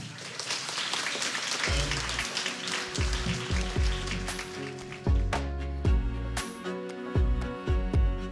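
Audience applause at a live evening show rises from a crowd into a dense, even patter. Low thumps and other sounds cut through it for about eight seconds.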